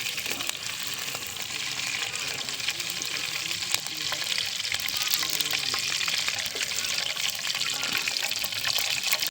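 Paneer frying in hot oil with stirring, a continuous bubbling sizzle and scraping clatter throughout, moderately loud and close, with no speech.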